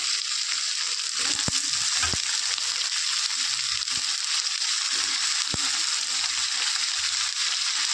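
Cut potatoes sizzling steadily in hot oil in a home-kitchen pan, a constant broadband frying hiss with occasional soft clicks and stirring knocks, close and alone without talk.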